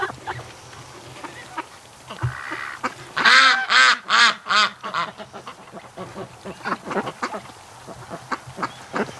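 Wintering domestic ducks in mild weather give a burst of loud, raspy quacks in quick succession, then a scatter of softer, shorter calls from several birds nearby.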